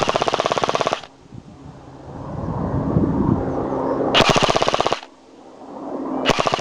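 A Classic Army MP5 A5 airsoft gun fitted with an M90 spring fires in short full-auto bursts outdoors: a rapid rattling burst, a pause filled with motor whine, then two more quick bursts.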